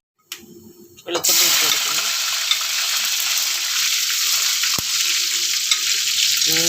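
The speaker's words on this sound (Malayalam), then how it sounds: "മുളക് പൊടിയും പുളിയും ഇട്ട് അച്ഛൻ ഇങ്ങനെ വഴറ്റിക്കൊണ്ടിരിക്കുകയാണ്" Chili powder and tamarind sautéing for a fish curry, a loud steady sizzle and frying hiss that starts abruptly and continues close up with faint stirring scrapes, no talk over it.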